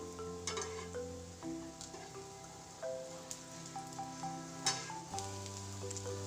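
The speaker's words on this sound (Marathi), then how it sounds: "असे थोडंसं तेलामध्ये शॉलो फ्राय करून घ्यायचं" Spinach and potato rolls shallow-fry in a little oil, giving a soft continuous sizzle with small crackles, heard under sustained background music with held tones.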